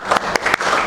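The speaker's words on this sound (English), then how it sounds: "Good job, everyone. Give applause for everyone." A short burst of applause from a small group of people, dense and fairly loud, with scattered individual claps standing out briefly.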